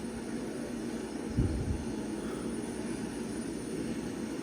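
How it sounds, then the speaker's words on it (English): A steady, droning rotor and engine roar of a helicopter in flight in the video game Gray Zone Warfare, continuous and fairly loud with a brief low thump midway. "I'm actually wanting to see where this helicopter goes."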